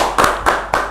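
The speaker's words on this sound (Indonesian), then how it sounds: "tepuk tangan dulu buat Mr. Puisi." Three distinct hand claps at an even rhythm, close and crisp, with no talking over them.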